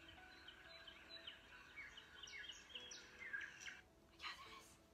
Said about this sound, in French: le son des oiseaux, mais je vais essayer sur ma tablette